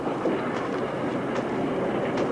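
A train runs along the rails, giving a steady rolling rumble with faint rhythmic clicks and rattles from the carriages, heard alone without any speech.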